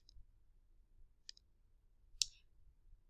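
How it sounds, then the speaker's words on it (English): A few crisp, faint computer mouse clicks, spaced apart in a quiet room, with one sharper, louder click near the end and no talking. "I'm going to go ahead and click apply"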